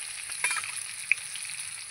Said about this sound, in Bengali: আমি ঢেকে ঢেকে আলুগুলোকে ভেজে নেব।